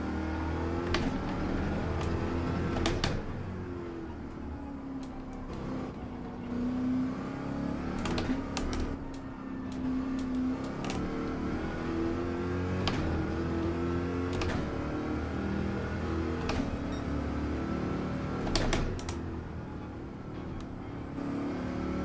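A Porsche Group 3 race car engine from Gran Turismo 7 on the Nürburgring GP circuit drones steadily throughout, its pitch rising and falling with gear changes and brief sharp clicks overhead.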